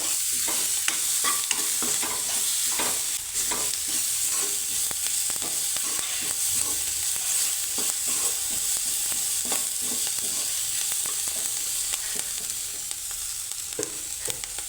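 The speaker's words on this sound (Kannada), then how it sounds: "ಉರಿನ ಮೀಡಿಯಮ್ ಫ್ಲೇಮಲ್ಲಿ ಇಟ್ಕೊಂಡ್ಬಿಟ್ಟು ಚೆನ್ನಾಗಿ ಇದನ್ನು ಎಣ್ಣೆಯಲ್ಲಿ ಫ್ರೈ ಮಾಡ್ಕೋಬೇಕು" Sambar powder fried in oil over a medium flame, with a continuous soft crackling sizzle and frequent small clicks and scrapes of stirring, steady and close.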